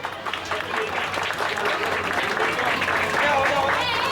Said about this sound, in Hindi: मैं तालियों का वेट कर रही हूँ